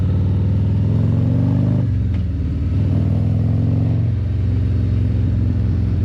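Harley-Davidson motorcycle engine running loud and close while riding, a deep steady rumble with the pitch shifting as the throttle changes and one brief dip partway through.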